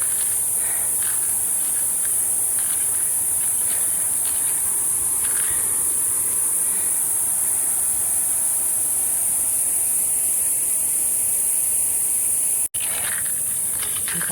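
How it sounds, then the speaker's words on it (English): Locusts or cicadas sing in craggy woodland on a hike to hot springs, a loud, continuous high-pitched buzzing drone that holds steady throughout, with faint rustling steps beneath. "Locusts or cicadas are singing up a tune."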